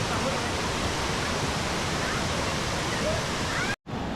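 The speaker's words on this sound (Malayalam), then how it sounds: "പ്രൈവറ്റ് പ്രോപ്പർട്ടിക്കകത്തുള്ള വെള്ളച്ചാട്ടമാണ്" A waterfall inside a private cardamom plantation in Kerala roars as an unbroken, loud broadband rush, close and steady, cutting out abruptly near the end.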